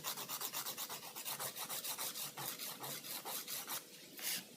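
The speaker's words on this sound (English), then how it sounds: "And I'm using a 180 grit file." Close, steady rasping of a 180 grit file shaping a fingernail into an almond stiletto tip, quick back-and-forth strokes repeating in an even rhythm without pause.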